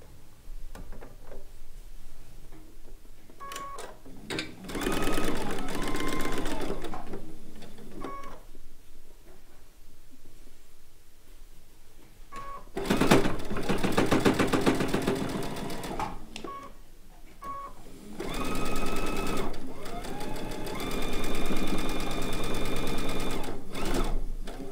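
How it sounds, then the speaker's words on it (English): Sewing machine stitching a fabric chicken pin cushion down the side from corner to corner, running in three loud bursts of rapid mechanical whirring separated by pauses. "Now we're going to stitch down the side where the beak's at,"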